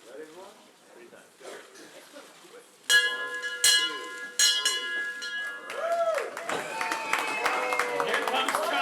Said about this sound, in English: Ring the bell there. 3 times.